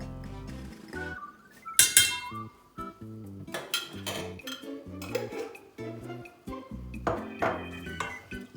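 A spoon stirs biscuit pudding mixture of milk, sugar, flour and starch in a metal pot, making repeated close clinks and scrapes in an irregular rhythm, with no talking over it.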